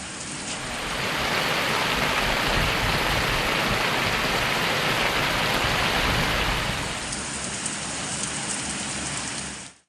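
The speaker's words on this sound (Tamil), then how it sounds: "ஆசனூர் மற்றும் திம்பம் மலைப்பகுதிகளில் கனமழை பெய்தது" Heavy rain pours steadily over the Asanur and Thimbam hill areas, a dense, loud, continuous hiss of falling water that holds for nearly the whole stretch without any voices.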